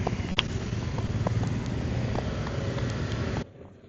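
Roadside traffic noise heard through a compact wireless clip-on microphone (Hollyland Lark A1 or DJI Mic Mini) with noise cancelling switched on: a dull, muffled, continuous rumble with a few faint ticks that drops off sharply just before the end.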